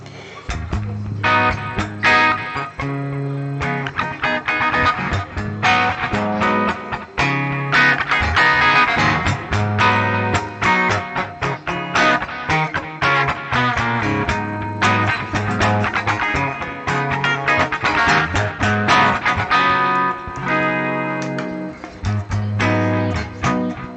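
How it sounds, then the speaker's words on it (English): Electric guitar played through a Yamaha THR10X amp on a clean setting: continuous strummed chords and picked notes, loud and close, with no talking over it. "this has a good clean sound too"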